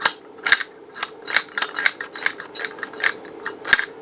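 A weight-based laptop dock mechanism clicking and ratcheting in a quick, uneven series of sharp, close mechanical ticks.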